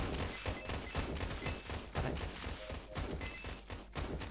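Machine gun turrets in the video game Road Defense Outsiders fire in steady, rapid bursts of overlapping gunshots, a continuous rattling fusillade heard at moderate level with no voices.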